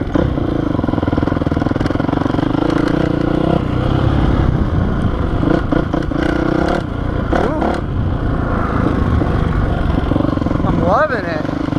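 A Honda CRF450R dirt bike roars along trails, its engine loud and close with steady revving, rising and falling throttle, clattering chassis noise and wind buffeting throughout.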